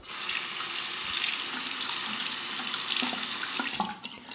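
Tap water runs steadily into a sink as a 34C safety razor fitted with a Bic Astor blade is rinsed, a continuous close splashing rush that tapers off at the end.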